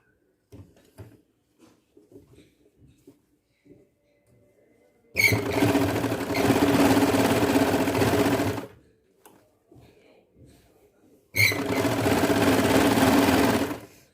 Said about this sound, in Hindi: एक सिलाई अब हम यहाँ से ऊपर से लगाएंगे